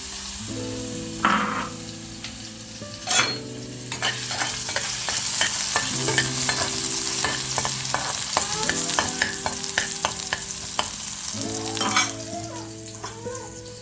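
Tomatoes fry in a pan for ragi rava upma, with a spoon stirring and scraping steadily against the metal over a continuous sizzle; clinks and knocks recur throughout, fairly close, with no talk.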